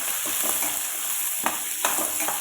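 Small onions fry in a pan for a chayote (chow chow) chutney, giving a steady, close sizzle with a few stirring scrapes and clinks of a utensil on the pan.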